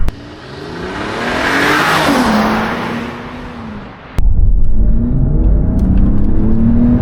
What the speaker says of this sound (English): Let's try to hear the V6.